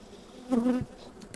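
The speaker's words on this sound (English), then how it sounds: "There's still a lot of bees in there, as you can see." A single honey bee buzzes close by at a hive for a brief moment, a sharp rising drone against a quiet, faint hum of more bees.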